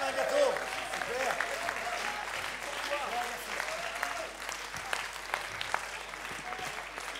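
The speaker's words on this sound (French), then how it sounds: "Applaudissements pour Giancarlo Pedote." A crowd claps steadily for Vendée Globe skipper Giancarlo Pedote of Prysmian after his finish and run up the channel, a dense, even wash of applause that holds throughout with a slight peak at the start.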